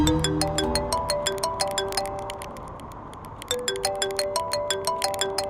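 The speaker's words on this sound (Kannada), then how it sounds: "ಚೈತ್ರು, ಕಾಲ್ ರಿಸೀವ್ ಮಾಡಿ ಸ್ಪೀಕರ್ ಆನ್ ಮಾಡು ಕಂದ." An incoming-call ringtone plays a bright, chiming melody of repeated bell-like notes in a steady rhythm, pausing briefly before starting again, loud and close with no speech.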